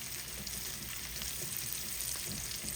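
Steak and asparagus sizzle in melted butter in a cast iron skillet, a steady dense crackle with fine popping that holds level and close throughout.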